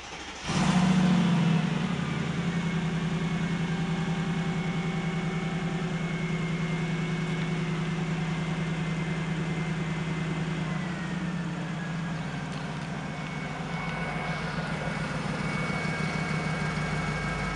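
A Mercedes McLaren SLR supercar's engine cranks and fires into a loud start-up flare, then settles into a steady, deep idle that holds throughout.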